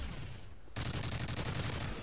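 Gunfire from a gunfight in Call of Duty: Modern Warfare 3, a sudden burst of rapid automatic shots that starts partway in and keeps going dense and loud to the end.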